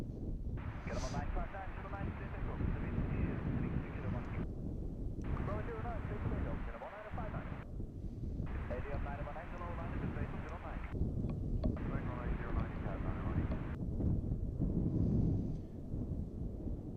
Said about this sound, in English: Tough winds, pretty strong today, much stronger than yesterday.